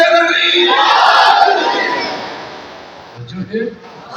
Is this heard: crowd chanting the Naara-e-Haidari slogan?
yes